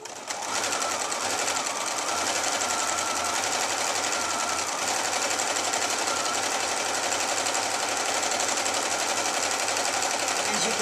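A sewing machine stitches through fabric in a steady, fast whirring drone that runs evenly and close throughout, with no talk over it.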